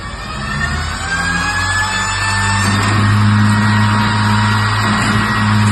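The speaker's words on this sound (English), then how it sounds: "grinder" A T-Rex automatic chain sharpener grinder running loud and close, a steady motor whine with high harmonic tones that rise slightly over a low mechanical hum, without speech.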